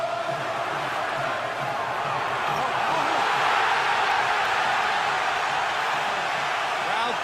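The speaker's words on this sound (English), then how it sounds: "Crowd thunders its appreciation as Hatton almost cut by Mayweather." A packed arena crowd roars steadily at a Floyd Mayweather versus Ricky Hatton boxing match, a dense, sustained wall of cheering with a commentator's voice heard under it.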